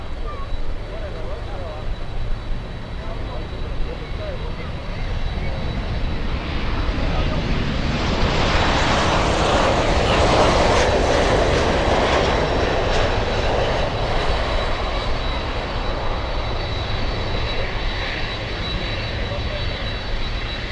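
A Boeing 787 jet airliner arriving at Miami International Airport roars past, its broad engine rumble swelling to a peak midway and then easing off, loud and steady throughout, with people talking.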